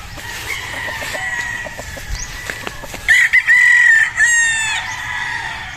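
Young roosters (stags) in a farmyard give a couple of loud, close crows among scattered clucks and chicken noise.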